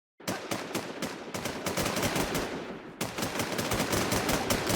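Sustained rapid automatic gunfire from the video game Infestation SEA, dense bursts of shots firing nearly nonstop and loud throughout.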